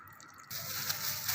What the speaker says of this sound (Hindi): उतनी देर में हम अपने करेले वॉश करते हैं